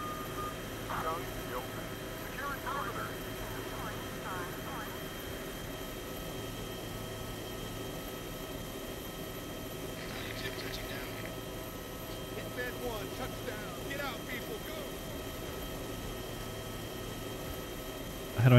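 An aircraft setting down in the video game Arma 2, a steady low engine drone running throughout, with faint scattered clicks and beeps over it and people talking at times.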